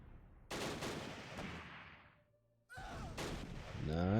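Mortar fire in the Close Combat wargame, two bursts of heavy rumbling detonations separated by a brief lull, loud and dense, with a rising tonal effect at the end.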